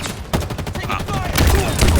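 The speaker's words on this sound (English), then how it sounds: "Taking fire." Gunfire crackles in Halo Infinite multiplayer: a rapid, dense volley of shots, loud and continuous, builds in intensity toward the end. Voices murmur faintly underneath.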